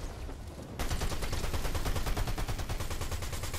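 Rapid SMG fire in a video game erupts after a brief quieter moment, a dense continuous stream of loud close shots with a fast steady rhythm running to the end.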